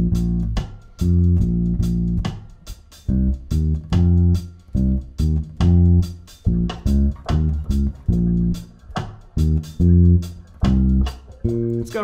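A melodic reggae bass line, the main riff of a song, played on bass guitar in repeating plucked phrases with steady rhythm, loud and clear with no voice over it.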